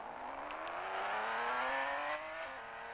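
A car engine in a video game revs up steadily, its pitch climbing over a few seconds before dropping off, loud and close with no voices.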